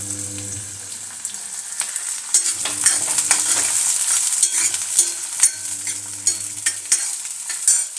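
Garlic, with onion already in the wok, frying in mustard oil in an Indian kadhai: a continuous loud sizzle with spatula scrapes and stirring clatter.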